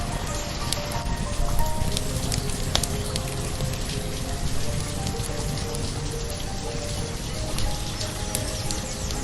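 Steady rain patters across the landscape of the city-building game Banished, a dense continuous hiss with scattered drops and a faint bird call, no voices.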